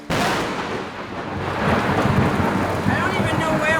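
Fierce thunder rumbles through a lightning storm in the Oaxaca jungle, a loud, continuous roll with rain hissing steadily underneath and no break in the noise.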